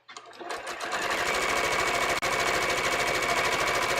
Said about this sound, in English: I'm just stitching my seam allowance down